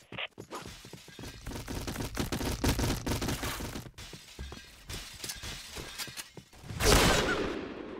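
Gunfire in the online shooter Point Blank, including an AS Val rifle: rapid bursts of sharp cracks and rattling shots, with a glassy shattering impact near the start and a louder blast toward the end.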